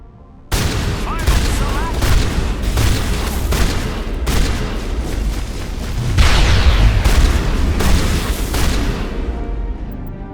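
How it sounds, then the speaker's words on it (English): Repeated grenade blasts and gunfire rumble through a Mass Effect firefight, heavy booms and crackling shots layered almost continuously for ten seconds, loud and close. "Grenades not doing much."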